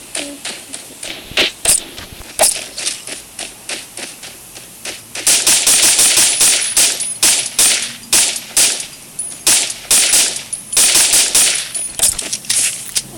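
Rapid automatic gunfire from a shooting video game, crackling in dense bursts and short pauses, louder in the second half, with no one speaking.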